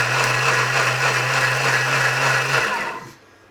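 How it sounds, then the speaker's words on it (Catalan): An electric blender runs steadily at full power, puréeing sauce for cod-stuffed piquillo peppers, then winds down and cuts off near the end, leaving quiet. "Simplement el que estem fent és triturar per a ficar-ho per damunt i al forn."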